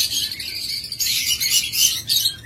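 A breeding pair of lovebirds chirps close by, making bursts of shrill, high tweets in quick clusters with brief pauses between them.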